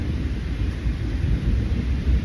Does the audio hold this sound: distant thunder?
yes